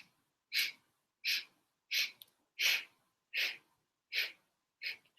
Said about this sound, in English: And then exhale the same way.